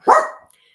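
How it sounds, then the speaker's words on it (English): A female dog gives a single loud, close bark that tails off over a fraction of a second, with nothing else sounding afterward. "That's my dog."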